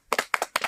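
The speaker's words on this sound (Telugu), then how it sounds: "క్లాప్స్ కొట్టండి ఒకటికి" Three quick pairs of hand claps ring out close and loud in an even rhythm, congratulating a correct answer during a number guessing game.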